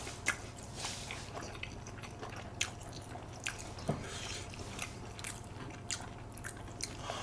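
Chewing crispy fried chicken close to the microphone, with soft wet chewing and several sharp crunchy bites spaced irregularly over a low background hum, with no talking.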